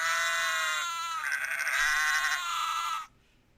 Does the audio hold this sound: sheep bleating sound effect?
yes